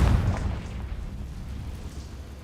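A Confringo blasting spell detonates in Hogwarts Legacy, a loud booming burst at the very start that quickly decays into a low rumbling tail with no talk over it.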